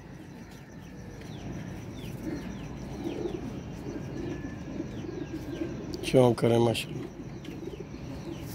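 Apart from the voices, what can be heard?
pigeons cooing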